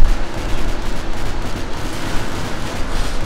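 Dense, loud gunfire from the video game Modern Warfare 2 fills the whole stretch, rapid overlapping automatic bursts blending into a continuous roar of shots, with no talking over it.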